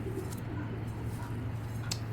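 A silver grizzle pigeon coos softly over a steady low hum, with faint cooing sounds in a noisy indoor loft setting.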